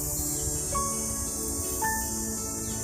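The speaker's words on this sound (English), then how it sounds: "the cicadas, they were quite noisy" Cicadas buzz loudly and continuously along a limestone trail beside the Thames River on an August day, a dense high shimmering drone with a few faint bird chirps over it and no speech.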